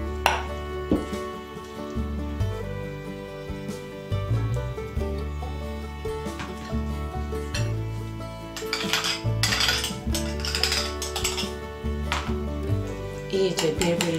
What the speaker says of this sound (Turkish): şöyle bir su bardağı yoğurt ve 4 yemek kaşığı mayonez. Bunları güzelce önce şöyle bir kapta karıştıracağım.